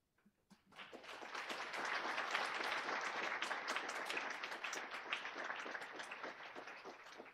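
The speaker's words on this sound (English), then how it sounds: "I hope you can hear the applause" A conference audience at Code4Lib 2023 breaks into applause after a presentation, with dense clapping that starts suddenly, holds strongly for about seven seconds, then thins slightly.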